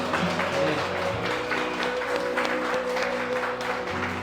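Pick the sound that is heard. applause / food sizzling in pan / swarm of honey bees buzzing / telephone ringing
applause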